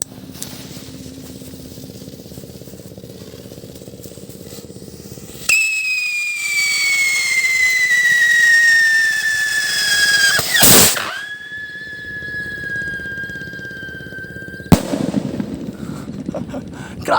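A two-stage whistle rocket firework shrieks upward with a loud descending whistle, bursts with a sharp bang, then a second shorter whistle follows before another crack, heard outdoors with faint voices in the background.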